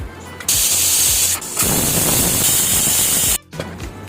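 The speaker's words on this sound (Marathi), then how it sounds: "कुकरला 2 शिट्या देऊया." A pressure cooker whistle vents steam in two loud, sustained hissing bursts with a brief pause between them while vegetable pulao cooks.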